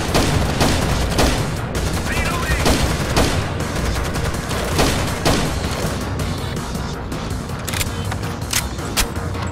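Mounted turret machine gun in Rainbow Six Vegas 2, firing in rapid repeated bursts of sharp cracks, loud and close, continuing across the whole stretch with occasional louder booms.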